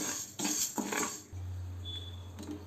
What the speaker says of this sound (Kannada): ಆ ಬಿಸಿಯಾಗಿರೋ ಪ್ಯಾನಿಗೆ ಹುರುಳಿಕಾಳನ್ನ ಹಾಕಬೇಕು. ಹುರುಳಿಕಾಳು ಚೆನ್ನಾಗಿ ರೋಸ್ಟ್ ಆಗೋವರೆಗೂ ಹುರಿಬೇಕು